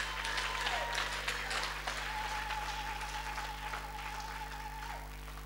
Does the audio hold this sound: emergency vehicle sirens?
no